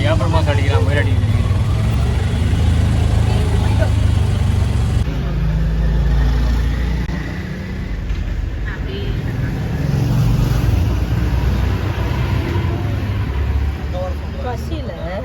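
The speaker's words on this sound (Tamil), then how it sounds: "ஃபுல்லாக இருக்கு போல பயங்கர டிராஃபிக்" Dense road traffic rumbles continuously, with car and bus engines idling and droning close by and a loud, steady low roar that persists throughout.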